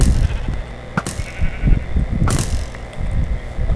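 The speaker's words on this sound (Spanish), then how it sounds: "vamos a matar a esta oveja." Sheep in the video game Minecraft bleat in short, close, game-style cries, two sharp bursts spaced about a second apart amid quick clicking and thudding sounds.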